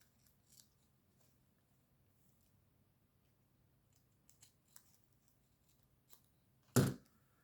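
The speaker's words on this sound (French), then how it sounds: "Je vais couper ce qui dépasse là." Excess material trimmed off a Christmas tree themed craft piece, faint small rustles and taps in near silence, ending in one close, loud scissor snip.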